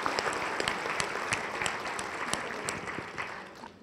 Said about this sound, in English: a big round of applause for Kush and all the people who organized this so amazingly